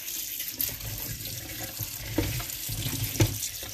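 Vegetables, including a green vegetable, are rinsed under a running kitchen tap. Steady, close water flow runs throughout the clip, with small splashes and handling bumps and no talking.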